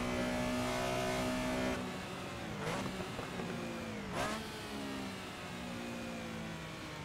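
Race car engine in Assetto Corsa with the GT Legends mod, held at high revs with a steady whine, then briefly over-revving with two sharp upward sweeps during gear changes before settling into a strained, continuous drone.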